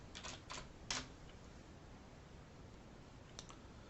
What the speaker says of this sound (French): je tape l'adresse wetransfer.com